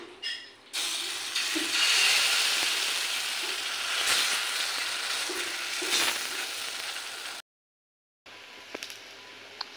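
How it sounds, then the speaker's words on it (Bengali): Batter frying in a pan like gola ruti, a steady close sizzle with soft stirring pops, cutting out briefly to silence near the end before resuming. "আমি গোলা রুটির মতন করে ভেজে নিচ্ছি"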